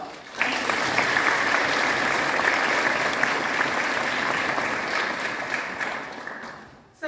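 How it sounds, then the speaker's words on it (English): A large crowd applauds graduating seniors at a school district hall of fame event, with dense, sustained clapping for about seven seconds that fades slightly before cutting off. "I would like for everybody to give another round of applause to all of our wonderful graduating seniors."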